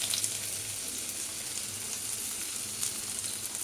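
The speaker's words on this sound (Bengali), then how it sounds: "পেঁয়াজটা নাড়াচাড়া করে একটু ভেজে নেব।" Small-chopped onion frying in very hot oil in a wok gives a continuous, bright, hissing sizzle, loud and steady throughout with faint crackles.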